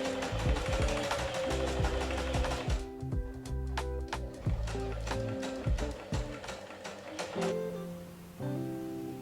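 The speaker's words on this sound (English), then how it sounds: "I hem the rest of the pocket." A sewing machine hems a fabric pocket in a run of rapid mechanical stitching bursts with brief pauses, close and fairly loud, with no one talking.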